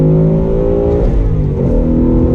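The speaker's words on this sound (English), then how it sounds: "that screaming V8, especially with the quad cam" A 2019 Ford Mustang GT with a quad-cam V8 accelerates hard in second gear, a loud, dense, continuous engine roar heard from close by with no speech.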